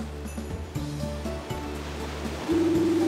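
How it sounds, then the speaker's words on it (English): Ocean waves washing ashore in the video game Harvest Moon: Animal Parade, a soft surf wash layered under steady tonal background game music, with no talking. "The sound of crashing waves soothes the soul."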